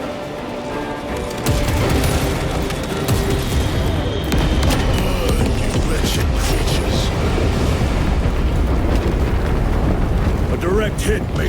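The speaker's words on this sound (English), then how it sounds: "Airstrike incoming!" Airstrike explosions in the Warhammer 40,000: Space Marine 2 video game, a dense, loud, sustained barrage of booms and rumbling blasts with gunfire-like crackle, continuing without pause across the whole stretch.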